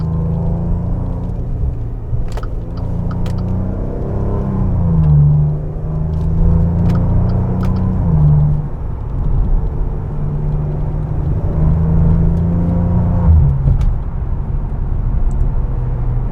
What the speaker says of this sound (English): It's one of the best-sounding V6 engines.